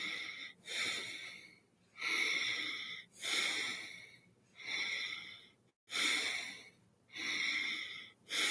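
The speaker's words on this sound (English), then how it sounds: "Breathe about 1 second breaths." Slow, deep breathing in a relaxation exercise with the shoulders held tense: six or seven steady breaths of about a second each, close and fairly loud, each followed by a short pause, with no talking.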